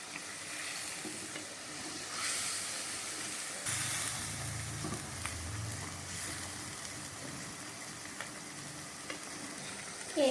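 Prawn sambal sizzles in a pan, a low steady frying hiss with scraping stirs of a utensil coming and going over about ten seconds, quiet and close.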